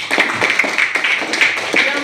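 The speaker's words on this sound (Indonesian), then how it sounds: "Oke, kita beri tepuk tangan" Brief applause in a classroom: a short burst of several people clapping in an uneven, overlapping rhythm, close and fairly loud.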